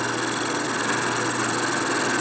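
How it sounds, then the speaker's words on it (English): A carbide tool boring a hole in a part for a 1946 Harley-Davidson Knucklehead stroker motor: a steady, loud, unbroken machining whine and hum from a running machine, close by with no talk. "Boring the hole makes it nice and true."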